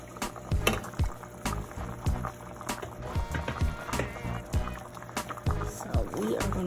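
Oxtail stew is stirred in a pot, producing wet sloshing, clinks and scrapes against the pot in an irregular rhythm, close up, with occasional voices in the kitchen.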